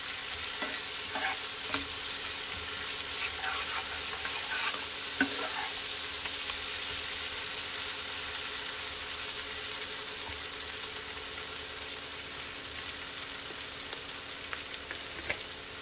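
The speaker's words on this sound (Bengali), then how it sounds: "এটাও কিছুক্ষণ নাড়াচাড়া করে নেব যাতে এর কাঁচা গন্ধটা চলে যায়" Ginger-garlic paste frying and being stirred in a pan for a Bengali puti fish curry, a steady close sizzle with occasional scraping stirs throughout, no voices.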